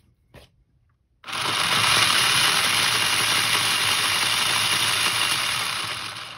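A 3D printed robotic actuator's motor, driven through a motor driver from parallel-wired batteries at around 10 amps, starts after a brief silence and runs as a steady, loud mechanical whir with a faint ratcheting texture until the end.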